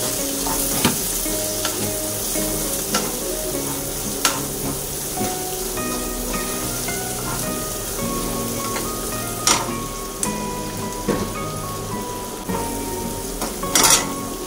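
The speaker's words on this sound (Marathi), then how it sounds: "त्याच्यानंतर बारीक चिरलेला कांदा, पुन्हा एकदा मिक्स करायचं" Finely chopped onion fries and gets stirred in a pan, a continuous close sizzle broken by periodic spoon scrapes and light clanks on the metal.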